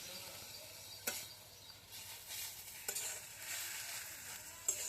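Tandulsa leaf vegetable being sautéed and stirred in an iron pan over a wood-fired stove, with a soft continuous sizzle and a few sharp scraping clinks of the spatula.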